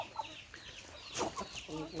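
Chickens on a Thai poultry farm cluck and chatter in several short, close calls, with a busier burst of clucking near the end.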